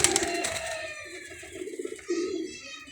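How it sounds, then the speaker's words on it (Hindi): Domestic pigeons perched on a brick give soft, throaty cooing calls, close and clear, in a few repeated phrases with short pauses between them. "वो ईंट पे जो बैठा हुआ है ये कबूतर है"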